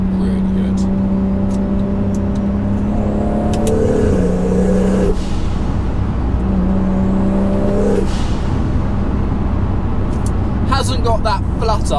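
A Toyota Supra engine without a dump valve revs under boost, with steady loud drone and rising and falling pitch sweeps as it accelerates, and a hiss and some clatter near the end.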